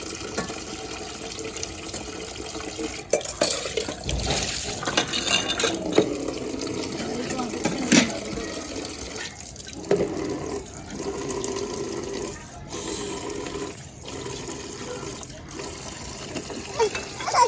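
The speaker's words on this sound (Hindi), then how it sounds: "सबने खाना खा लिया तो भी बर्तन वगैरह धो रहे हैं।" Tap water runs steadily into a home kitchen sink during dishwashing, with intermittent clatter and splashes of dishes, fairly close, and a voice speaking over it at points.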